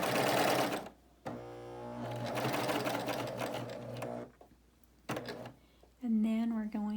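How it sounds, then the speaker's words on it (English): A Baby Lock Euphoria coverstitch machine stitches a hem in fabric, with two bursts of steady motor whir separated by short pauses. A voice speaks briefly at the end. "we're just going to sew about a ½ inch over that"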